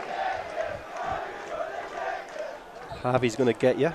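Fans at a Darlington versus AFC Telford United National League North football match chant from the stands, a distant murmur swelling into a loud rhythmic group chant near the end, with spoken words mixed in.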